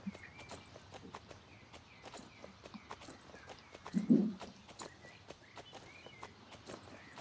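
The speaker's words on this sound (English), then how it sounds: "Is that a canter? Yeah, that's just a canter." A horse canters in a video game, its hoofbeats sounding as a rhythmic clip-clop on the ground, with a short snort or whinny partway through, moderately close and steady.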